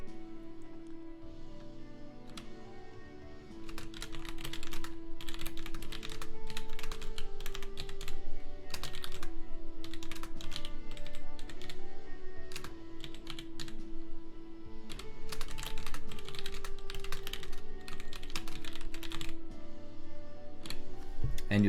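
Keystrokes on a computer keyboard as keywords are typed into product listings, a dense run of close, crisp clicks over a low steady hum, quieter at first and then fuller, with short pauses between bursts.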